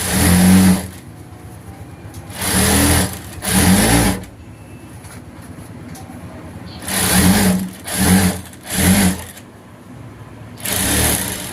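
A sewing machine stitches a work-blouse seam in several short, loud, close bursts, each a second or so long, separated by brief pauses where the motor stops.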